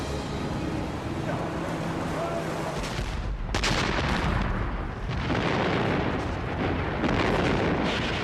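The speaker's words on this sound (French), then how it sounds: "Mais les canons allemands sont là." German artillery guns fire on the Anzio beaches in January 1944, a heavy continuous roar of blasts and rumble with a sharp loud burst midway, dense and booming throughout.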